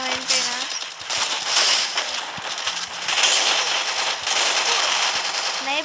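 Rapid gunfire in a shooting video game, sniper shots cracking amid a busy, crackling barrage of shots and effects, loud and dense throughout, with a voice talking over it.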